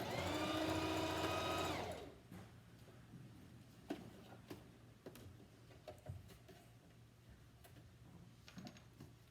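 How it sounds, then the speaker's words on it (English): A sewing machine stitches fabric with black thread in a loud, close whirring burst lasting about two seconds, then stops, leaving quiet scattered clicks and handling ticks. "Okay, so I sewed 2 lines, and I used black thread"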